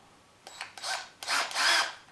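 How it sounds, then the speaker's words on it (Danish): A power drill whirs in short close bursts, two brief spin-ups followed by a longer whine, loud against a quiet background. "en boremaskine."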